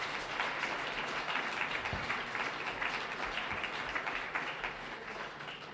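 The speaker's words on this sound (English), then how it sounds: "round of applause for Ward 3" Audience applause at a Manitou Springs election forum, a steady, dense wash of clapping from a crowd that holds for the whole stretch without fading.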